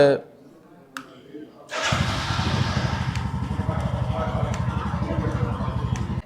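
A Royal Enfield 443cc single-cylinder motorcycle with switchable ABS: after a couple of faint clicks, the engine cranks and fires at once, then settles into a loud, close, steady thumping idle.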